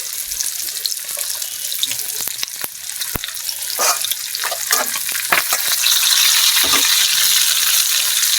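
Spices sizzling and being stirred in hot oil for a fish-head moong dal, a steady bright crackle that grows slightly louder, with scattered sharp clicks and scrapes of a spoon against the pan.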